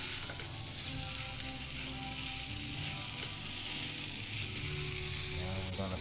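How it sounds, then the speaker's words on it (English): Pork sizzles in a hot pan on lowered heat for Cantonese pork fried rice, a dense, even frying hiss running continuously and close, with no talking over it. "we're gonna saute it a little bit"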